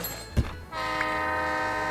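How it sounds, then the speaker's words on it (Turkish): A train in the Roblox game Border Tycoon rumbles past steadily after a brief thump, with a sustained horn-like tone layered over the continuous rolling noise and no talking. "Bu tren hiç mi durmaz kardeşim?"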